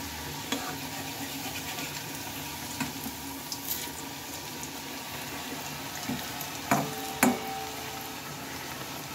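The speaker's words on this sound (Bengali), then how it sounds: "দেখো কতটা সুন্দর লাল লালভাবে কিন্তু এগুলো ভাজা হচ্ছে।" Papaya pakoras deep frying in hot oil, a constant soft bubbling hiss with scattered light clicks and taps from a utensil, louder knocks near the end.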